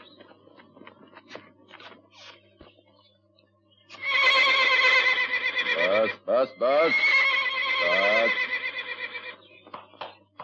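A horse in a 1970s Hindi film lets out loud, shrill neighs and whinnies in two long bursts, while a voice calls out over it and there are faint shuffling noises around.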